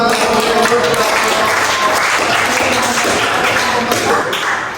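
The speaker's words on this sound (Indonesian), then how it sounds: "Tepuk tangan buat mereka dulu." Students in a university sociology classroom applaud a presenting group, a loud, close, continuous rattle of clapping that tapers off slightly at the end.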